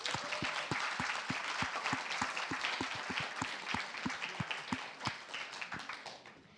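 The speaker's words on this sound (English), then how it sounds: "Let's give a big round of applause for all the students, coordinators, and professors in cohort 18 of SCET." Applause at a UC Berkeley startup pitch event: a fairly small audience claps with distinct, separate hand claps, a little uneven and fading slightly toward the end.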